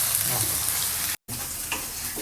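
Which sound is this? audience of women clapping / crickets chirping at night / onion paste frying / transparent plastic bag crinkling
onion paste frying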